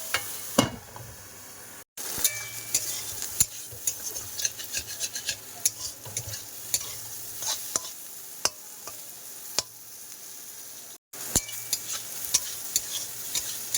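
Vegetables frying in a pan under frequent stirring, a steady sizzle punctuated by repeated scrapes and clinks of a utensil against the pan, with two short gaps.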